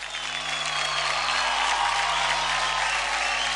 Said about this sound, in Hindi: एक बार जोरदार तालियां धर्मेश सर के लिए।